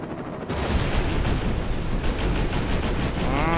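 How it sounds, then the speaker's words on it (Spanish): Gunfire from a helicopter in Rambo: The Video Game, set in 1985 Vietnam: after a brief quiet opening, a loud, sustained barrage of shots and blasts roars continuously to the end, with no talk. "¡Qué disparo desde el helicóptero!"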